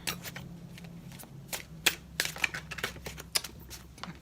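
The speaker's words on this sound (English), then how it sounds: "A tidy shuffling." Tarot cards are shuffled by hand in a tidy series of soft, quick papery riffles and taps, close and quiet, with no talking.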